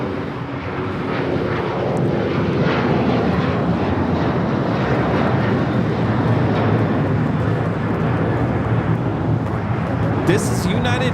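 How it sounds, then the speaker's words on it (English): A United Airlines Boeing 737-900ER taking off from Los Angeles International Airport for Houston Intercontinental sends out a sustained, loud jet rumble and roar, steady throughout, with faint voices underneath. "This is United Airlines 1571 taking off to Houston Intercontinental on the 737-900ER."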